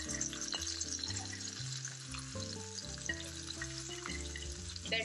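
Ginger garlic paste and spices fry in a pan for chicken karahi as they are stirred, a soft, continuous sizzle running beneath prominent melodic background music.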